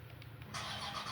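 A video game car engine, the Comrade Bellicose B24 Liberator modeled on a Hellcat with a supercharged 6.4 Hemi V8, idling low and then jumping into a louder, brighter rev partway through, heard alone and fairly faint.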